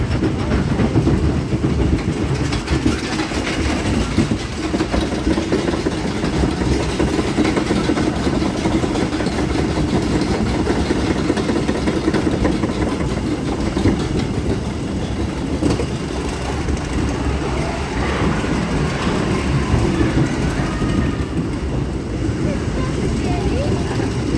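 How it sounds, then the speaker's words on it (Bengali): Steady rumble and rattle from inside a moving train in Kolkata, continuous clatter of the carriage with voices talking over it throughout. "ট্রেনে চেপেছি আমরা। ট্রেন যাচ্ছে যাচ্ছে ট্রেন।"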